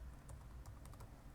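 Keystrokes on a computer keyboard tap out in a quick, uneven run of soft clicks, close and fairly quiet over a steady low hum, with no talking.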